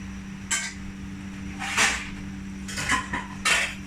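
A metal lid set onto a cooking pot of ginataang sitaw at tulingan in a home kitchen; several close, sharp clinks and clatters come at intervals over a low steady hum.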